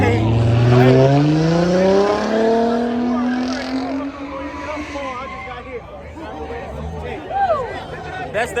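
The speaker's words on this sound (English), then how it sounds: "That's that Mustang for you." A Ford Mustang at a Chicago car meet revs loudly and close, its engine note climbing and sliding before it fades into crowd chatter and scattered voices.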